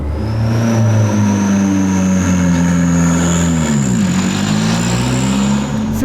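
A Formula 4 race car pulls away from a standing start: a loud, close engine drone holds steady and climbs gradually in pitch, dipping briefly once as it revs on with no talking.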